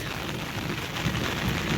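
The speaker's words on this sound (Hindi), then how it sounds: "आज बारिश हो रही है और इतनी तेज़ हो रही है" Heavy morning rain falls in a village, a dense, constant roar of drops hitting surfaces, close and fairly loud with no pauses or voices.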